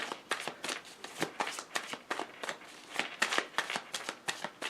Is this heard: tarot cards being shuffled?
yes